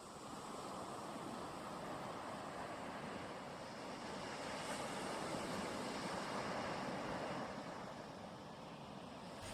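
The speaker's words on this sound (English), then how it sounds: "He surfed the waves and crashed onto the shore" Surf rolls onto a beach in a continuous soft wash, a steady broadband roar with gentle swells and some wind rush, heard without voices.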